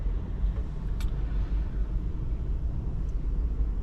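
A car passes along a road near a driving test centre in Buxton, heard as a steady low rumble of tyres and engine that stays fairly even and close throughout, with no talking.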